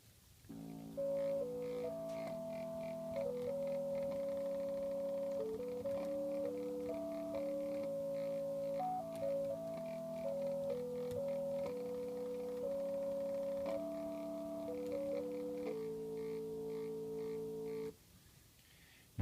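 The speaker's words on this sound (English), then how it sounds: "Now that is the organ sound, which is the default tone for the Pentaphone." A Pentaphone electronic keyboard plays chords and a stepping melody in its default organ tone, a steady sustained sound lasting about seventeen seconds, then stopping abruptly.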